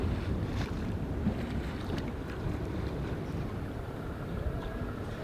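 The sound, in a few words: sailboat sailing upwind in light wind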